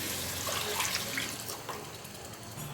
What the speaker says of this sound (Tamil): இதோட 150 ml வாட்டர் சேர்த்துக்கிறேன்.